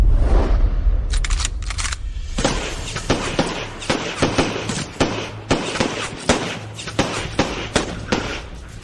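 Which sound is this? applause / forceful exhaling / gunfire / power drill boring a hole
gunfire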